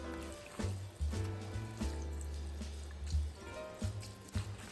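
Broth is poured into cornbread dressing, giving soft wet splashes and squishy glugs in uneven bursts, close and fairly quiet, with some kitchen handling noise.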